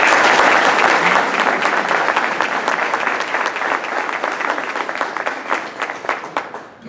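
A room full of people applauds at a Rotary club meeting, welcoming a speaker with loud, dense clapping that starts strong and slowly thins out, a few last claps trailing off at the end.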